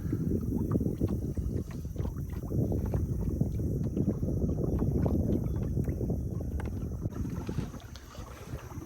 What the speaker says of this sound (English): As you can tell, a little windy.